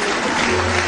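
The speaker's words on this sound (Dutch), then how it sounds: "Geeft u een applaus." Dense, loud applause from a crowd at a kickboxing match, steady and continuous throughout the short moment.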